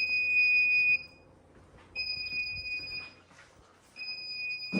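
A self-diagnostic Ready-Lite emergency light sounds its alarm, a piercing steady electronic tone in one-second bursts separated by one-second pauses, heard three times, close and muffled by its closed lid.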